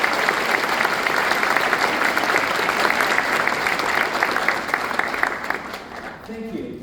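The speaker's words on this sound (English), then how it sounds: "Let's give our parents a big round of applause" Crowd at a 2024 graduation ceremony giving parents a big round of applause, sustained dense clapping that stays strong for several seconds before tapering off near the end.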